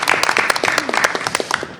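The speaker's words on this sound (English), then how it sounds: "Let's give them a round of applause too." An audience at a Board of Education meeting claps for a high school robotics team, a dense burst of close applause with sharp individual claps throughout.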